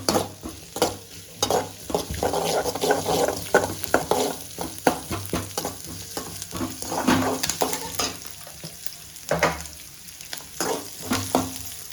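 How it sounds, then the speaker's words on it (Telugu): Chopped onions fry in a pan until brown, with a continuous sizzle and crackle broken by repeated scrape-and-clatter stirring strokes, close and steady throughout. "ఇలా బ్రౌన్ కలర్ వచ్చేంత వరకు ఫ్రై చేసుకున్నాం."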